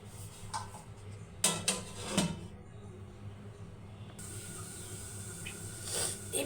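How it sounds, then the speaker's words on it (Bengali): A metal lid is set onto a cooking pot of fish and vegetable curry masala, giving a couple of short close clinks over a low steady simmer hiss. "এখন একটা ঢাকনা দিয়ে ঢেকে দেব"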